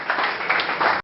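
A church congregation claps together in a steady, loud burst of applause that lasts about a second and then cuts off abruptly.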